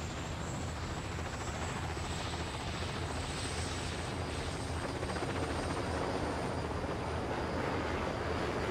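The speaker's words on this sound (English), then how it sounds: "Hey, it's a Sikorsky. It's a really early helicopter." A very early Sikorsky helicopter flies in the Destroy All Humans 2020 video game, its rotor and engine making a loud, steady drone that fills the whole stretch without pause.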